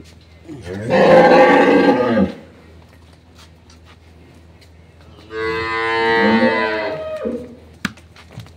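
Two long, loud moos from an improved-breed dairy cow on a farm, one early and one after a quiet pause, each lasting over a second with a deep, resonant bellow.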